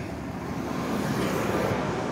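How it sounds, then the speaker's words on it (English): Steady traffic-like roar with a low engine hum, consistent with a parked police car idling across a street, continuous and moderately loud without voices. "The car, you hear it? It's running."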